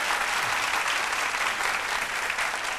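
Audience applause on a TV talk show for a musical duo, thick, loud, continuous clapping from a studio crowd filling the whole moment without pause.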